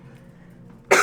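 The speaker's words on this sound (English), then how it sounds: "the first video I done coughed on in this thing" A person coughs once, a loud burst near the microphone at the very end after about a second of quiet room tone.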